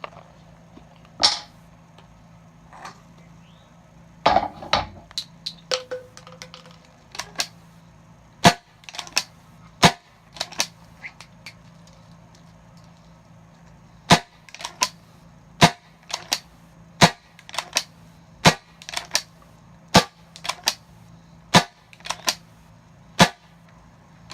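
A CO2 air pistol fires Crosman 12-gram cartridges in a long string of sharp, close cracks, a few spaced out at first and then a steady, evenly paced run of single shots with quiet gaps between.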